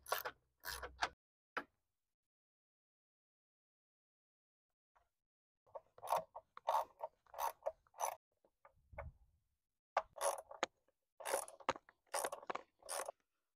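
Small ratchet clicking faintly while bolts are removed from the camshaft position sensors on a Ford Transit's 3.5 EcoBoost valve cover, in short intermittent bursts of ticks separated by silence.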